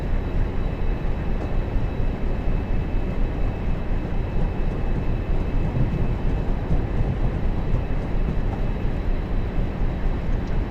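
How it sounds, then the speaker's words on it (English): Train Simulator 2015 locomotive cab on the West Coast Main Line over Shap, shaking and rumbling steadily as the throttle opens, a dense continuous low roar close up with no voices. "Hear that shaking in the cab as you throttle up."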